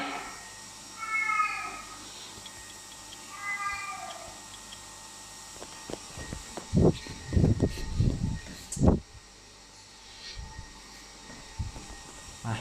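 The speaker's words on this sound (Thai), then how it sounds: "แมวร้องอีกแล้ว" A cat meows repeatedly at close range, with a few clear cries early on and then louder bursts in the middle. A steady hum plays underneath.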